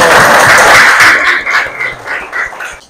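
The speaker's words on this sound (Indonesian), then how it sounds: "tepuk tangan dulu" A class of students in a school classroom claps after a group discussion, starting as a loud, close burst of applause that quickly thins into a few scattered claps.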